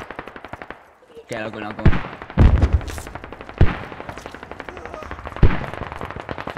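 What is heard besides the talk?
gunfire in the video game Squad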